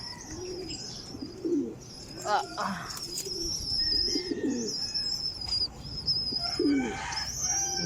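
Pigeons coo in soft, repeated low phrases close by, with higher chirps and bird calls scattered over a faint background.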